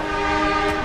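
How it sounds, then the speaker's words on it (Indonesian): A CC 206 diesel locomotive from the Sidotopo depot, assigned to the Taksaka train, sounds a steady, tonal horn-like blast that fills the whole brief moment at close range, with no talk. "Ini nampaknya adalah lokomotif yang akan berdinas kereta Taksaka, yaitu CC 206 1383 milik Dipo Induk SDT atau Sidotopo."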